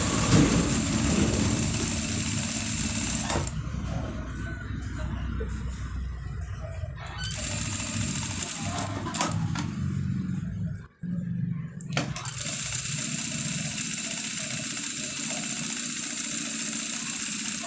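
A motorized sewing machine stitches the side pocket of a panjabi in several bursts, each a steady, buzzing run of a few seconds separated by quieter pauses, heard close by.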